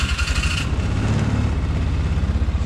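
A 2006 Polaris Ranger 500 4x4 engine starts up and settles into a low, steady, rhythmic idle, close and moderately loud, with no talk.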